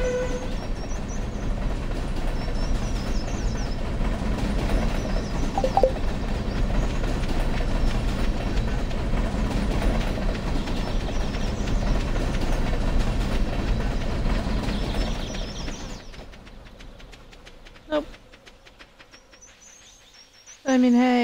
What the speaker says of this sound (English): I love how the rest of the world pauses and the train keeps going.